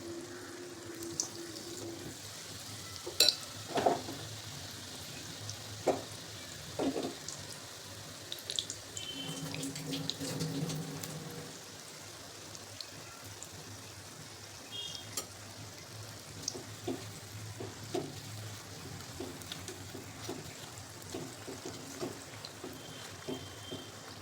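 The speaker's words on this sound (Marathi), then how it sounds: "तर राहिलेले पण आपल्याला अशाच प्रकारे तळून घ्यायचे" Potato vada fritters deep-frying in hot oil for street-style vada pav give off a steady low sizzle, with scattered sharp pops and clinks throughout.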